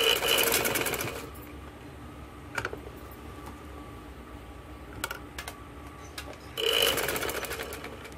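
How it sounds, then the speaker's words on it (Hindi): A sewing machine stitches a seam on a ladies' kurti in two fast, whirring bursts, one at the start and one at the end. Between them are quiet ticks and clicks of fabric handling. "और ये जो बंद हिस्सा है हमारा, ये हम ऐसे लगाएंगे, ये ऐसे, ये देखिए, और इसके ऊपर सिलाई लगा देंगे।"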